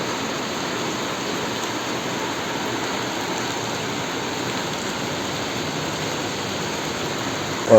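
Steady rain falls in Manali without letup, a smooth, even hiss of drops on surfaces at constant loudness, with a brief bump at the very end.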